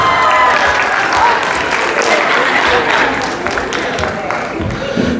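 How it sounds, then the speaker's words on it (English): A loud, full round of applause from a crowd at a parent and family engagement session, dense and steady with scattered voices and murmuring blended underneath. "give her a round of applause"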